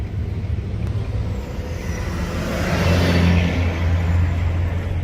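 A truck creeps slowly up a short, very steep hill during a wheat harvest, its engine a steady low drone that swells slightly as it labors, heard from a short distance with no talking.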